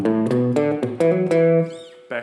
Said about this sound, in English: into the guitar riff